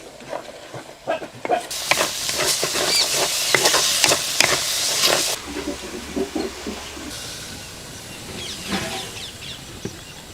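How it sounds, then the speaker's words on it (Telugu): Green chillies with turmeric and salt frying in a pan: a sudden loud sizzle breaks in, accompanied by repeated scraping stir strokes, then the sizzle drops to a lower, steadier hiss with occasional clicks. "పేస్ట్ లాగంటే మెత్తబడే వరకు కూడా దీన్ని బాగా ఇలాగ వేయించుకోవాలి"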